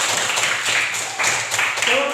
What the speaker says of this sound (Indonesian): Berikan tepuk tangan untuk Owen.